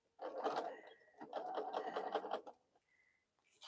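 A sewing machine stitching a quilted bowl cozy, two close bursts of rapid whirring needle strokes of a second or two each, then a pause with a brief faint hum.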